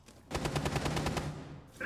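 Rapid automatic gunfire in a Rainbow Six Siege collegiate esports match between Marietta College and University of the Cumberlands, a sustained burst of close, loud shots lasting over a second before cutting off.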